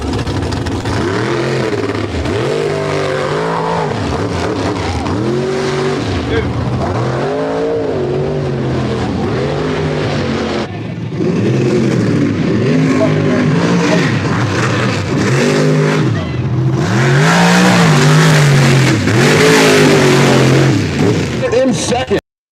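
A racing mega truck engine revs loudly and repeatedly during a run at about three-quarter throttle without nitrous, rising and falling in surging bursts, then roaring harder near the end; voices may be faintly mixed in.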